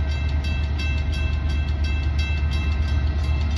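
A closed bauxite freight train pulls out of Mundijong, a loud, steady rail rumble close by with a faint high whine running throughout.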